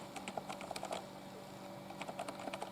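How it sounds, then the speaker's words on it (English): Typing on a computer keyboard that was repaired after a water spill, with bursts of clicky keystrokes in quick rhythmic runs, a pause in the middle, then more typing, close and moderately quiet with no voices. "Now, let me type."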